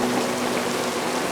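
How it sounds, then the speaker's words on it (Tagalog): Steady rain falls throughout, a dense even hiss of drops close by with no breaks and no voices. "Umuulan na, anak"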